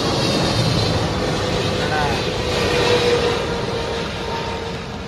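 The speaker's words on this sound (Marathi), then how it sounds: "विमान एकदम जवळून धावण्याचा प्रयत्न आहे बघा." An airliner taking off close by at Mumbai airport in the rain sends a broad, steady jet roar with a faint rising whine, loud and continuous throughout.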